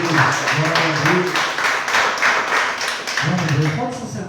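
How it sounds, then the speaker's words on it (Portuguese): Church congregation applauding the Lord during a worship service in Mogi das Cruzes, a steady patter of many hands clapping mixed with voices, loud and continuous throughout. "Você pode aplaudir o Senhor?"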